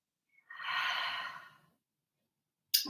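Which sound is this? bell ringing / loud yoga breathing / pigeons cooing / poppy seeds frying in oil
loud yoga breathing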